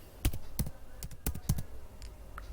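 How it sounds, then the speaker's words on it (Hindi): Typing on a computer keyboard while entering a web address in a browser, a short, close burst of about eight crisp key taps in quick, uneven rhythm. "न्यू टैब पे हम टाइप करेंगे google.co.in और यहाँ पे हमें टाइप करना है"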